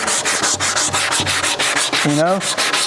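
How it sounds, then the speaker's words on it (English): An orbital or hand sander scrubs across a wooden dining table being refinished, with steady rhythmic back-and-forth strokes, close and loud. A brief whistling tone rises near the end. "if you sand everything off cross grain, you have got to come back with the grain to clean that up"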